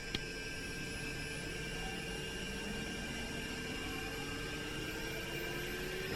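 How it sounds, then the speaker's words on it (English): Second engine of a Bell 412 helicopter spooling up in the X-Plane 11 flight simulator, a steady loud turbine whine and hiss with a slowly rising tone, continuous and without speech. "let's go back here and start engine number 2"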